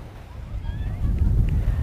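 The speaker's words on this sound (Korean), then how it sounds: "지금 바람 소리 들리시죠?" Strong wind buffeting the microphone on Haeundae beach, a loud low rumble that swells and roars steadily.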